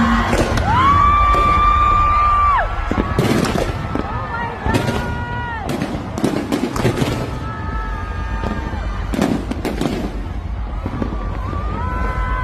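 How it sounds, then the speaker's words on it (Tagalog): New Year's Eve fireworks at a hotel burst repeatedly over a noisy crowd. The bangs and crackles come in irregular clusters, and whistling rockets rise through them. "Dahil nga bongga rin ang mga fireworks na inihanda ng hotel."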